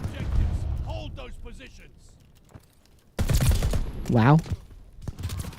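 Pistol gunfire in Call of Duty: Vanguard: a few quick, sharp shots close by, arriving in a short cluster partway through, with someone talking and exclaiming around them.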